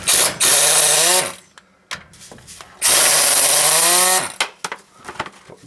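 A power tool whines and ratchets while loosening the rear differential cover bolts on a 2008-2011 Ford, running in two loud, close bursts with short pauses of small metallic clicks and rattles between them.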